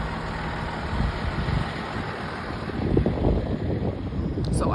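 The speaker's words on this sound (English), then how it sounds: "Here's one of our beautiful city refuse trucks." A city refuse truck drives by on a neighborhood street, its engine rumble building and growing louder toward the end, mixed with steady wind buffeting the microphone.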